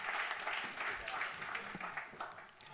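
An audience at a conference opening applauds, a moderate, steady patter of many hands clapping that runs through the whole stretch, with voices faintly audible over it.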